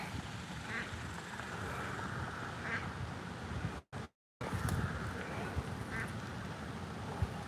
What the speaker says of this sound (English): I think you're a duck. Are you a duck?